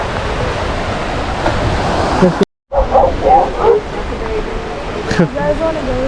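Seals on a sandy beach along the Big Sur coast of California's Pacific Coast Highway give a few short, barking, dog-like calls over steady surf, with voices nearby and a brief gap of silence midway.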